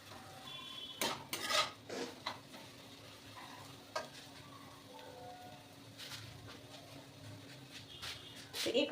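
Food is stirred with oil in a cooking pan, making quiet intermittent scraping and clattering strokes over a soft background hiss, with a few sharper knocks.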